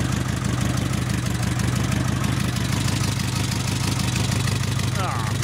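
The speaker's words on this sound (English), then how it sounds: "Despite the exhaust, it's a pretty quiet and smooth running motor." Mitsubishi Express van engine idling with a rusted, holed exhaust, a steady low rumble with an even, smooth beat held close and loud throughout, with a brief squeal near the end.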